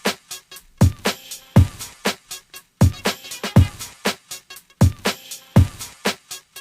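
Layered snare drum hits sampled from vinyl, low-cut and with delay, crack out in a steady groove pattern with short echoing tails between strikes, alone and fairly loud.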